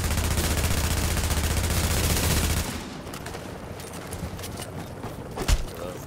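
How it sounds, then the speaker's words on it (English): Sustained loud automatic gunfire from the video game Manhunt rattles for about two and a half seconds, then cuts to quieter game ambience with faint footsteps and a single thud near the end. "Oh, you shot back."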